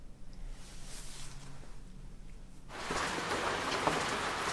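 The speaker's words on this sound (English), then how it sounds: "Raining." Rain falling steadily as a soft hiss that grows suddenly heavier and denser partway through, continuing as a close, even wash of drops with no voices.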